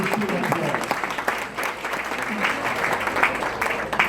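Wedding guests applaud during a reception speech, a steady wash of clapping from a crowd that holds at an even level throughout, with some voices mixed in.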